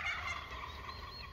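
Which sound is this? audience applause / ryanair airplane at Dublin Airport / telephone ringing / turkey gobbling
turkey gobbling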